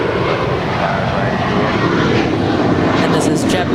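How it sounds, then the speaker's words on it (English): A JetBlue Airbus A321 takes off at LAX, its jet engines producing a loud, steady broadband roar that stays close and constant throughout, with faint higher whine creeping in near the end. "And this is JetBlue 1374 off to Newark, New Jersey, A321"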